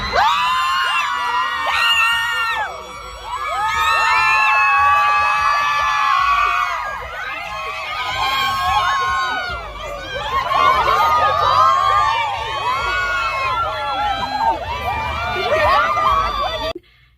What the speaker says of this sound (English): it was a mob of screaming fangirls who were clueless about what was going on